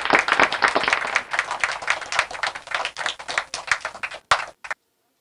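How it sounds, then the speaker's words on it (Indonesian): Loud applause and clapping from an audience at a symbolic handover of HKI intellectual-property certificates, dense and sustained for about four seconds before stopping abruptly. "Bapak Ibu Akang Teteh berikan aplaus yang luar biasa untuk menerima sertifikat HKI"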